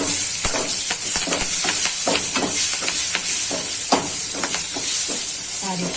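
Green chillies dropped into hot oil for a Gujarati gunda sambharo, giving a steady, loud broadband sizzle with crackling pops and scraping bursts throughout.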